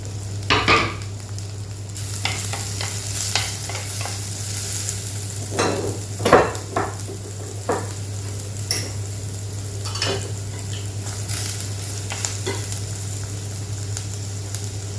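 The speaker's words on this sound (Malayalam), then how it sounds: "ഈ ഒരു സമയത്ത് നമ്മൾ അരിഞ്ഞു വെച്ചിട്ടുള്ള സവാള ചേർത്ത് കൊടുക്കാം." Sliced onions sautéing with ginger and garlic in a pan for a mushroom pepper fry, a continuous sizzle broken by repeated scraping stirs, under a steady low hum, with no talking.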